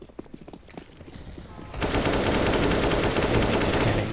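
Gunfire in Counter-Strike: Global Offensive during a pro tournament match, a few scattered shots and footsteps, then a loud sustained burst of automatic fire that dominates the rest.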